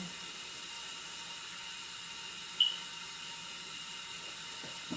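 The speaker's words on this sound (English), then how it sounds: "And wash my hands again." Tap water runs steadily into a kitchen sink for hand washing, a constant close hiss with one brief clink partway through and no talking.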